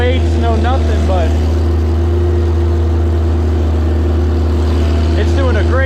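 A tractor with no ballast weights pulls a moldboard plow through a hay field, its steady low engine drone running close and continuous under occasional talk.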